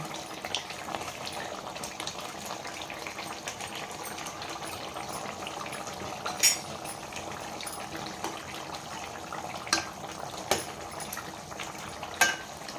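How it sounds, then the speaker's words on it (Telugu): Drumsticks boil in an egg gravy curry, giving a continuous bubbling hiss with a few soft knocks of a utensil against the pot, no one talking. "బాగా ఉడుకుతున్నాయండి."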